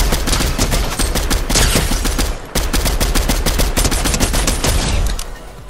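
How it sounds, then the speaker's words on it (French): Gunfire in the video game Fortnite: dense, loud rapid-fire bursts of shots in quick succession, with a brief gap partway through and tailing off at the end, no talk. "Voilà, on entend des tirs."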